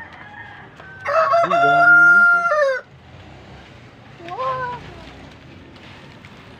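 Fighting roosters bred for derby cockfights crow in a yard: one loud, close, drawn-out crow, then a shorter, fainter one from another bird, with brief talk in between.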